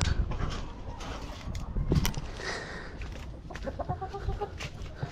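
Chickens on a farm cluck and squawk nearby in short bursts, with scattered rustling and clatter around them and no talking.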